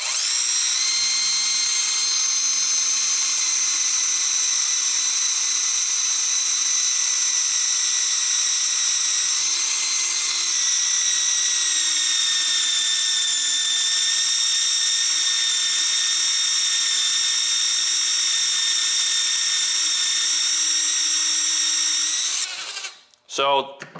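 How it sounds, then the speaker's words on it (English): A Makita right-angle cordless drill bores into a 3/4 inch piece of billet aluminum, giving a loud, steady high-pitched whine that holds for over twenty seconds and then stops abruptly. "you could even drill, I mean, this is a 3/4 inch piece of billet aluminum."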